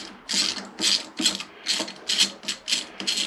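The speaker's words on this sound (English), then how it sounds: "remove both bolts that hold that go from the clip-on into the yoke" Repeated ratcheting bursts as shouldered bolts holding the clip-on handlebars to the yoke are undone on a 1998 Kawasaki ZX9R, about eight close, crisp clicking strokes in a steady rhythm with no talk.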